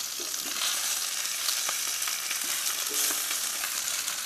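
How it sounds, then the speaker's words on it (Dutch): Quail browning in a covered pan, a steady loud sizzle and crackle of frying fat running continuously throughout with faint scattered pops. "Die laat je maar 5 minuutjes bakken onder gesloten deksel."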